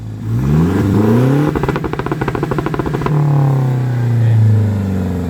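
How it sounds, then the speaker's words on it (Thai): Close, loud revving from a tuned Toyota Revo Prerunner pickup fitted with a muffler: the engine climbs, chatters rapidly against the rev limiter for over a second, then drops back to a rumbling idle that swells once more. "คันนี้มีหม้อพักนะครับคันนี้มีหม้อพักนะครับเบิ้ล"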